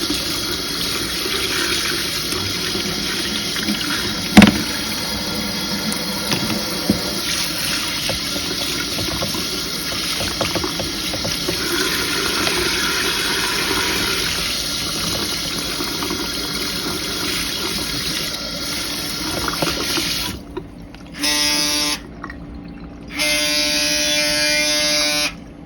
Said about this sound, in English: you can run these through water too